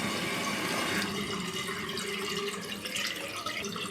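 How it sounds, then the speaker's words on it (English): Water runs continuously into the overflow tube of a leaking toilet tank, a steady, close hissing trickle that carries on unbroken with no voices. "The water is now going into the overflow tube, wasting water, causing your bills to go up."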